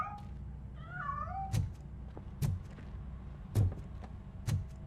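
A cat in a video game meows several times in a short, wavering cry early on, followed by four evenly spaced thumps or footfalls over a low ambient hum.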